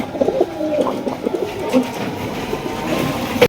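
A fresh pigeon kept among racer and fancy birds for sale coos in repeated soft, throaty phrases, close by, over a steady low background hum.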